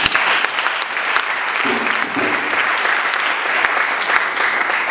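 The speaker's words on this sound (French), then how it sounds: "Acclame Jésus de Nazareth." A church congregation applauds for Jesus, a dense, loud burst of clapping from many hands that continues steadily and close throughout.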